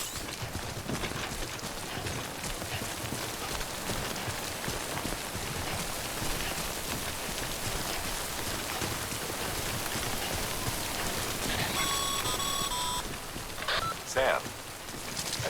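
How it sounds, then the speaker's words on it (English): Steady rain of timefall in the video game Death Stranding, a continuous soft patter and hiss with faint footstep-like clops, plus brief game chime tones near the end. "Don't stay out in the rain any longer than you have to."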